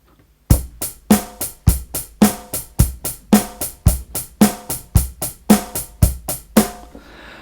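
A Yamaha FGDP-50 finger drum pad plays a steady beat in which hi-hat alternates with bass drum and snare, about two hits a second for six seconds, punchy and close, with no voices, ending in a short decay.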